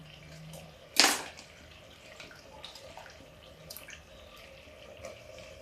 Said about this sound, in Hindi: पानी को फेंक देते हैं।